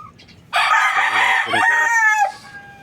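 A rooster crows loudly and close for about two seconds, a long harmonic cock-a-doodle-doo, among gamefowl hens kept for breeding pairs with a Peruvian cross rooster; faint clucking sits before and after the crow.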